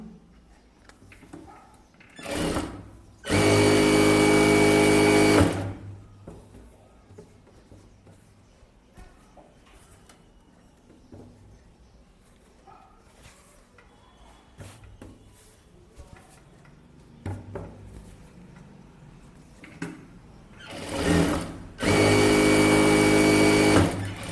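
Sewing machine running straight stitches on a blouse with lining cloth, two loud sustained bursts of motor whir separated by quieter handling sounds and talk.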